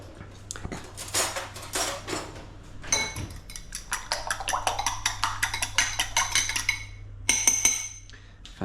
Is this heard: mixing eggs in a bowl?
yes